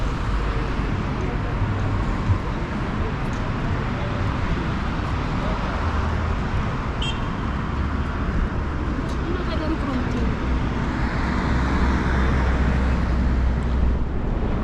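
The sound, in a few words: street traffic in Addis Ababa, Ethiopia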